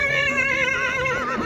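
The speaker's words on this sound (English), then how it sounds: "How amazing is it to ride exactly the same horses that Chinggis Khan was riding 800 years ago" A Mongolian horse, one of the world's oldest breeds, lets out a loud, close whinny with a long wavering, quivering call that runs unbroken for about a second and a half, no voices present.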